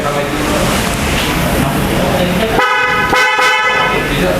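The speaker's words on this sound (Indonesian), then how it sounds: "Kita tadi pakai klakson Mitsuba yang Proudhon. Tes dengar? Kita tes ya." A Mitsuba car horn on a Honda Jazz GK5 blares in a sustained honk partway through, loud and close, following a stretch of steady engine and road noise.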